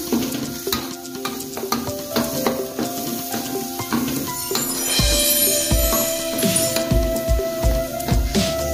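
Steady sizzling and frying of ground chili, galangal, ginger and coriander paste in a pan over medium heat for asam padeh daging, with occasional stirring scrapes, close and fairly loud, growing more intense partway through.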